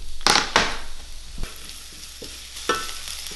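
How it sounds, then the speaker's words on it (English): Onions browning in butter in a pan, a few sharp scraping stirs and clatters over a soft steady sizzle, close up, with no speech. "First thing we're gonna do is brown our onions in some butter."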